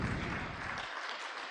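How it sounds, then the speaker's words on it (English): Applause from a conference audience of doctors, a dense patter of many hands that is loud at first and then thins toward the end. "Let's clap for her."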